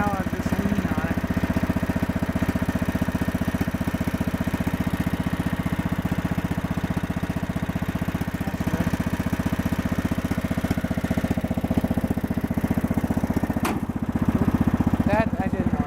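A neglected Yard-King bagger lawn mower idles after a cold start, its small engine putting out a steady, loud, throbbing drone that runs the whole time with slight unevenness and no break.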